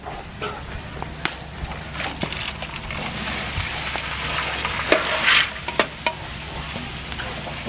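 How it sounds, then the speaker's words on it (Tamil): Cabbage and onions sauté in hot oil with a continuous close sizzle, broken by sharp spoon-on-pan clicks and scrapes as the mixture is stirred, swelling briefly louder midway. "எல்லாம் எண்ணெயில் வதக்கிட்டு முட்டைக்கோசு சேர்த்துக்கலாம்"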